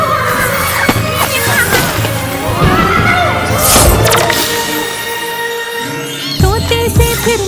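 A horse whinnies several times over busy layered sound with music and clopping hoofbeats, loud and close, with an animated children's song setting.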